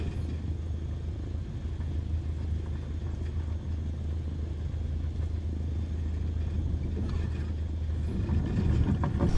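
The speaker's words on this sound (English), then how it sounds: "I am a bit fast taxiing" A light aircraft taxiing on grass gives a steady, low engine rumble that runs unbroken and swells slightly toward the end, with no talk over it.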